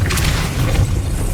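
A Depulso spell cast in the Hogwarts Legacy video game, a short, loud booming burst with a low rumble, heard alone.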